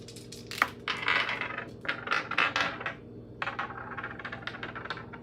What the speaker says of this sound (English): The dice that likes to roll forever and a day here.